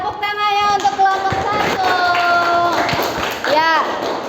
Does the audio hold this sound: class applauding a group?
yes